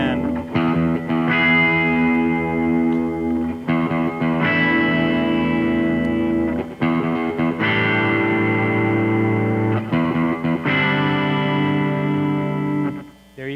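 Electric guitar playing a blues-rock riff, with light distortion and chorus effect; loud sustained chords in several phrases separated by brief gaps, played alone.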